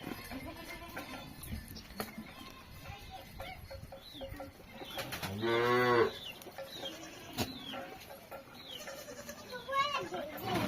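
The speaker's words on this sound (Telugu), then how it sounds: "ఇవేదే మా మేకలు." Goats at a rural home bleat repeatedly, with one loud, wavering bleat close by in the middle and softer calls around it, amid background voices and farmyard noise.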